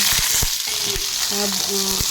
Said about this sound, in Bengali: কড়াইতে তেল দিয়ে একটা শুকনো লঙ্কা দিয়েছি আর রাঁধুনি ফোড়ন দেব